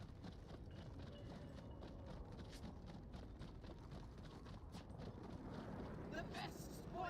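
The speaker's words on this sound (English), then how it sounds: "And I have a little mini horse." A mini horse clip-clops in a video game, a steady, soft rhythm of hoofbeats under wind-like background noise, moderately quiet, with a talking voice heard alongside.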